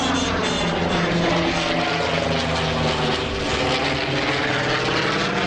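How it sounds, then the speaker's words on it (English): A Vought F4U Corsair's Pratt & Whitney R-2800 radial engine roars steadily and loud at an air show as the fighter pulls up into a roll, a continuous throaty propeller drone with a slight shifting pitch and no talk. "Just listen to the sound of that R2800 as Dan pulls the nose up and enters a roll."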